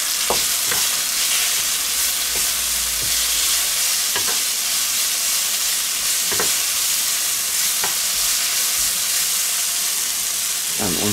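Bell peppers and spring onions stir-fry in a kitchen wok, a loud, constant sizzle punctuated every second or two by sharp metallic scrapes of the spatula tossing the vegetables, close up, with no one speaking.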